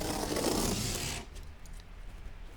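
Scissors slice through the tape seal on a cardboard bicycle box, making a close, rasping scrape for about a second before it stops and leaves quiet.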